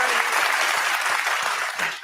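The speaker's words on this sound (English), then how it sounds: "so please clap" Dense, loud audience applause runs continuously from start to finish, a thick wash of clapping with a slight dip near the end.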